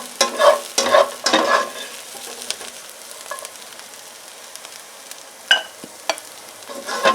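Paneer frying in hot oil in a pan, with intermittent stirring and scraping strokes over a soft, steady sizzle.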